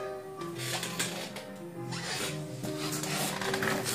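A door surface is hand-worked with 3000-grit abrasive, a close rasping rub in repeated back-and-forth strokes of uneven length over a faint background hum.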